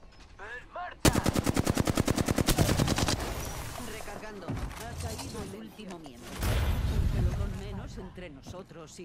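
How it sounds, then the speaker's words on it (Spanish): Automatic gunfire in the video game Apex Legends, a loud rapid burst of evenly spaced shots up close, then further firing and game noise under someone talking. "Están disparando."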